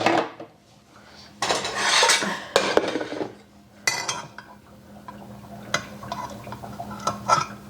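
A spoon scrapes fat off cold chicken stock in a pot, giving intermittent metallic scrapes and clinks against the pot in uneven bursts with quiet gaps, close and alone.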